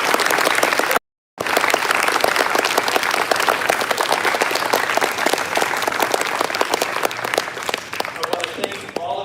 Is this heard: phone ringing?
no